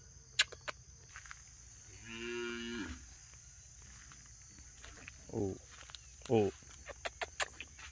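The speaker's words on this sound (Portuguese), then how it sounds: "Ali a vaca com bezerrinho, ó." Cow with her calf on a farm, lowing several times in short moos at moderate distance, with faint clicks and quiet background noise between calls.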